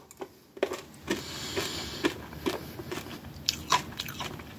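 Biting and crunching a sour cherry Tic Tac mint, close-up crisp cracks repeating irregularly about every half second against quiet background, no speech.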